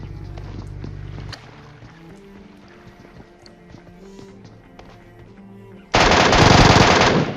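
Gunfire from a shooter video game: tonal game sounds play for several seconds, then a loud, sustained rapid burst of shots takes over near the end.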